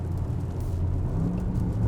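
A 2025 Bentley Bentayga Speed with an Akrapovic exhaust in sport mode rumbles with a steady, deep low exhaust drone heard from inside the insulated cabin, with no talk.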